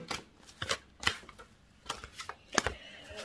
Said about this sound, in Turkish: Bakalım yaylara 3 kart çekiyorum.